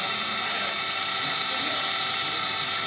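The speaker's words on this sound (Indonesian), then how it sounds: "tutorial cara setting mesin lubang kancing Brother" Brother buttonhole sewing machine running at high speed, a steady dense mechanical whir and rapid needle chatter throughout, close and loud with no pauses.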